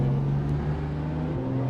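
Sports car engine holding a steady low drone while overtaking during a group cruise with a large pack of cars such as an M135i, Focus, A45 and M4s, with a slight pitch shift near the end and no voices.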